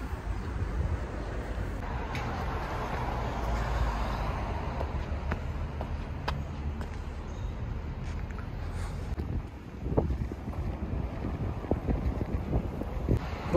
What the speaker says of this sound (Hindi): आज थोड़ा हल्की हवा चल रही है